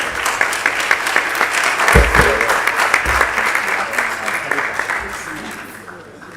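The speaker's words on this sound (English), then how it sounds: "Please, let's give them a round of applause." Sustained applause from an audience for hackathon award winners at an academic launch event, steady dense clapping that swells and then tapers off at the end, with a voice briefly heard underneath.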